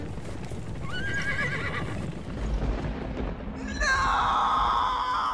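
A horse in a video game whinnies loudly twice, the second a long high neigh, over hoofbeats and rumbling background action with no talking.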